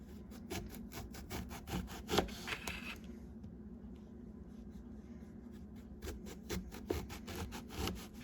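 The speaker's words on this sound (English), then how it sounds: "And then I'm going to cut the eggplant into thin slices," A knife cuts an eggplant into thin slices on a board, making a quick series of close, sharp rhythmic chops that pause midway and then resume, with no talking.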